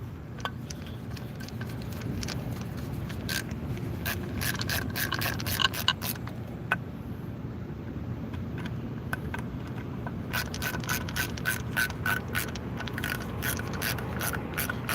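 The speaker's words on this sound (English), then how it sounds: "So just kind of work back and forth on the 2 screws until they're tight." Screws being tightened on a Duramax diesel fuel filter head during a rebuild, a steady run of quick ratchet clicks in bursts, close and fairly quiet over a low background hum, with no talking.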